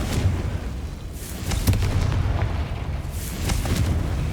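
Confringo and Bombarda explosion spells in Hogwarts Legacy, a run of deep booming blasts and sharp bursts in quick succession, loud and rumbling with no voices heard.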